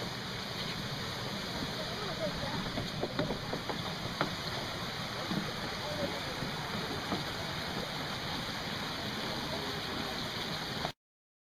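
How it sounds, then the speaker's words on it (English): A waterfall in Canada roars steadily near a base camp, a broad continuous rush of falling water with faint scattered sounds of people nearby. "So here I took a video of a waterfall."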